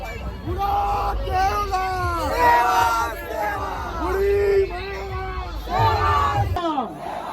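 A large crowd at an Adivasi rally roars and cheers steadily, a dense hubbub of many voices with shouts rising and falling throughout, close and loud, before cutting off near the end.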